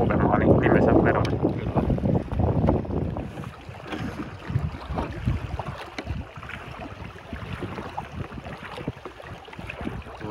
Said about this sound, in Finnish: kun tuli pikku tuuli järvelle, niin alkoi tuulemaan niin nimensä verran